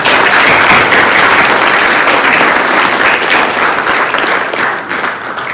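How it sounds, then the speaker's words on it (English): Sustained applause from a large crowd, loud and steady throughout, tapering slightly near the end. "we need to give a big round of applause to all the artists"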